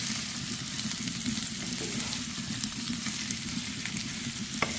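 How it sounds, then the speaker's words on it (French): Green beans, meat and onion sizzle steadily in a frying pan as they are stirred, a continuous close crackle with no voices. "On va bien mélanger comme ça et laisser tout ça gentiment encore griller."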